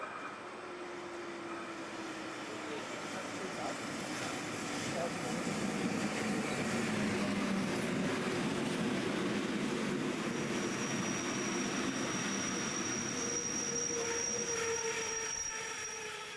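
A metre-gauge Rhaetian Railway train running through Switzerland, a steady rumbling roll of wheels on track that swells in the middle, with faint wheel squeal and distant background sounds.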